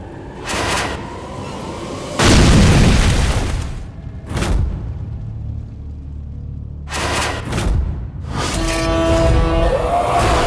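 A deep explosion booms close by and loud, with several separate blasts and rumbling bursts spread across the stretch and quieter gaps between them.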